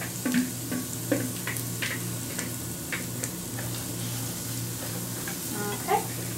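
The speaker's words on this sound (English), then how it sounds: "add the Swiss chard stems that we cut up earlier. Just add those straight to the pan." Chopped Swiss chard stems sizzle and fry in a pan with onions, a continuous close hiss with scattered crackles and occasional soft stirring clicks.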